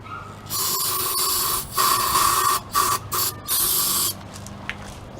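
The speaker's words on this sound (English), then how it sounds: "I'm going to spray a little bit more longer brake parts cleaner in here" Several hissing bursts of brake parts cleaner aerosol spray on a Scotts lawn mower's OHV engine, one long, then shorter spurts in quick succession, close up with quiet pauses between.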